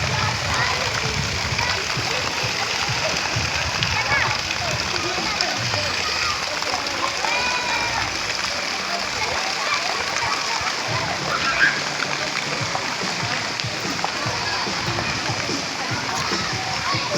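Crowd of people swimming and splashing in the pool water at Malangas resort, a constant wash of distant splashes and children's voices, with someone talking over it.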